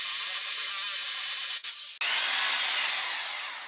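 A hammer drill with a 10mm bit drills into floor tile, a loud steady whine and grinding that cuts out briefly and restarts, then a rising-and-falling motor tone as it bites in.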